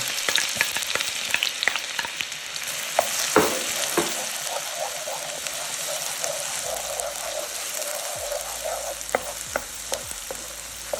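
Onion fries in garlic-flavoured oil for a seafood risotto, a continuous close crackling sizzle with scattered pops and a few stirring clatters over about eleven seconds.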